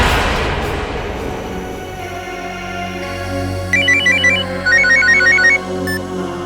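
A phone rings with an incoming call: repeated electronic ringtone bursts in short patterned phrases, loud and close, over a low dramatic music bed with a thud near the start.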